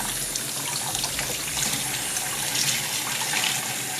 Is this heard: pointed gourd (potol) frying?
no